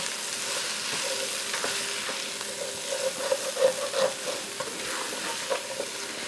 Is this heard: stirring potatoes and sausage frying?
yes